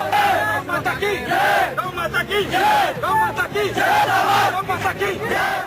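Crowd of thousands gathering in a village near Dadri, shouting and chanting in loud overlapping voices, a dense continuous roar of many people close by.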